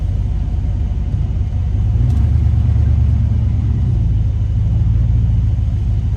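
A car idles with a leaky, DIY-repaired exhaust patched toward the muffler, producing a loud, continuous low rumble with a steady throb, close up and alone.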